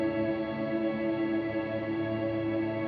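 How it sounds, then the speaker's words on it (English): A frozen, endlessly sustained reverb pad from a Strymon Big Sky reverb pedal, a smooth unchanging wash of tone with no attack or decay. "Freezing the Big Sky right now."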